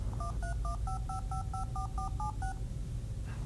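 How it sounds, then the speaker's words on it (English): An Apple Newton handheld from 1993 automatically dials a phone number, sending a rapid, even sequence of about eleven clear DTMF beeps before falling silent. "Newton looks up the phone number, displays it, and even dials the phone."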